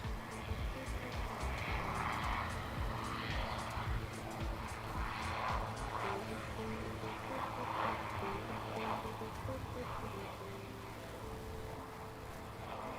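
A Royal Flying Doctor Service aircraft departs runway 01 at Adelaide Airport, a steady distant engine roar and broad rushing drone that holds for the whole stretch, fading only slightly toward the end, with no talk over it.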